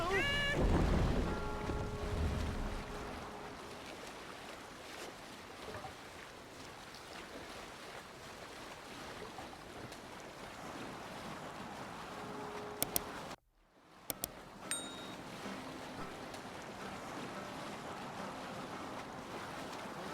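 A longboat is rowed across open water in Assassin's Creed Valhalla, with waves washing and wind rushing steadily around the hull, briefly cutting out midway before resuming, no speech over it.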